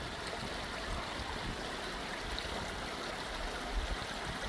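Spring water at Montauk in Missouri flows out of the ground into a creek, a steady close rush and gurgle with no pauses and no voices.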